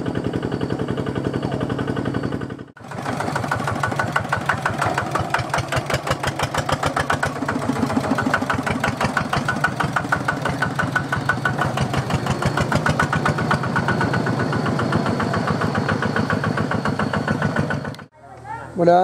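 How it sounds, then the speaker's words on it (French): A small tractor's Kubota tiller diesel engine, mounted on a four-wheel transmission, idles nearby with a steady, rapid knocking putter, briefly dipping at the start and end. "Voilà un moteur Kubota de motoculteur monté sur une transmission 4 roues"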